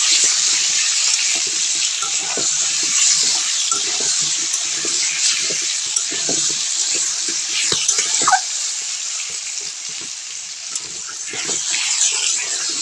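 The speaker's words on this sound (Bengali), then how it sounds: "লবণ হলুদটা দিয়ে আমি আলুটা ভালো করে ভেজে নেব।" Potatoes seasoned with salt and turmeric fry in hot oil with a loud, continuous close-up sizzle and scattered faint stirring scrapes underneath, no talking.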